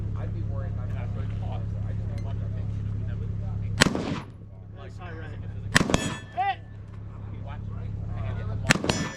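Rifle shots crack sharply at a shooting range, three loud reports a few seconds apart, over a steady background hum and quiet talk.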